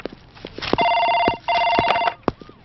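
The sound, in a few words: telephone ringing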